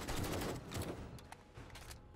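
Gunfire in 7 Days to Die, a faint rapid volley of sharp shots over a low rumble, brief and somewhat distant.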